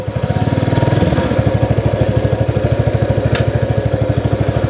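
A Scout-9 motorcycle from Izhtekhmash, all-wheel drive with a new engine, runs loud and close in first gear, its steady pulsing chug thumping evenly throughout with a brief clack partway through.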